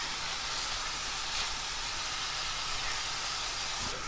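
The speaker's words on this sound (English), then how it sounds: "I'm just going to put a lid over the top to try and keep some of that steam in as we cook it" Fish cooking in marinade in a lidded pan for tacos, a steady close hiss of steam and sizzle running unbroken throughout.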